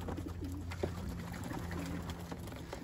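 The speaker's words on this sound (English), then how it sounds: "Birds loving their bath time." Racing pigeons splashing and bathing in a shallow pan in the evening, with soft coos and bird calls over a steady low outdoor background, near and fairly quiet.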